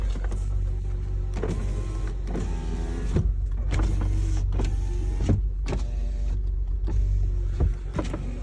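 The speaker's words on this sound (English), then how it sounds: "All my windows are working because I swapped over those plugs that goes from the chassis to the doors." Power windows on a 3rd-generation Acura TL with a manual swap, several motor whirs starting and stopping in quick succession, each run ending in a thunk as the glass seats, all heard close inside the car.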